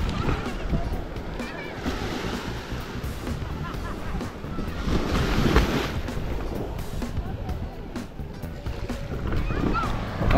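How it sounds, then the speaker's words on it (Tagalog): Sea waves at Tandaligan Beach wash steadily along the shore, a continuous broad roar with gentle swells, buffeted by wind noise on the microphone, with a person speaking faintly nearby. "Ayan yung dagat."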